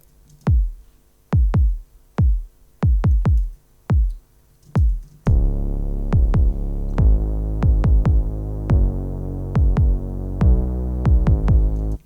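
A few isolated kick thumps, then a sustained low bass line under steady kick hits, its level holding flat without any pumping.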